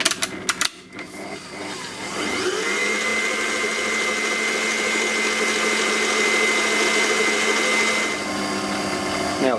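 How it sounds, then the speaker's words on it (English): An electric mixer beats firmly packed brown sugar and vanilla extract on high speed for earthquake cookies: after a few clicks it settles into a steady, close, droning whir that holds for several seconds before easing off. "Now beat this on high speed until it's light and fluffy."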